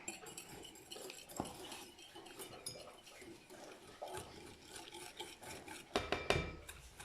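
Egg yolks being whisked with sugar in a bowl, heard as soft irregular scraping and light clinks of a whisk against the bowl that grow busier and louder toward the end.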